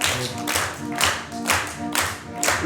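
A circus audience at an evening performance claps along in time while the high-wire set is put back up, with loud, steady group claps landing roughly twice per second over a background of tonal music.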